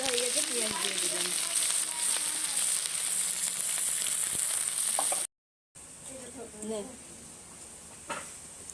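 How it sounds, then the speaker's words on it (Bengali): Onions fry in hot oil with bay leaves, dried chilli and whole cumin for a duck curry, giving a steady close sizzle throughout, with a brief silent gap and soft stirring. "ভাজা হয়ে গেছে, পেঁয়াজ দিয়ে দিলাম।"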